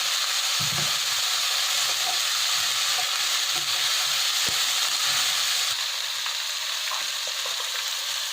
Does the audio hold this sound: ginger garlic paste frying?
yes